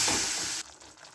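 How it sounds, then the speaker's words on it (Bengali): Ginger, coriander, green chili, chili powder, turmeric and salt frying in oil over lowered gas for a Bengali leta fish curry, giving a brief loud sizzling hiss that cuts off abruptly to quiet. "আদা, ধনে, কাঁচা লঙ্কা, শুকনো লঙ্কা গুঁড়ো, হলুদ গুঁড়ো, নুন সব দিয়ে এবার ভালো করে গ্যাসটাকে কমিয়ে কষবো ভালো করে"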